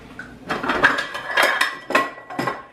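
Metal muffin tin handled in a home kitchen, giving a run of close, bright clanks and scrapes in several bursts with no talking.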